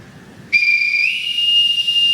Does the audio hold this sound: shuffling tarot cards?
no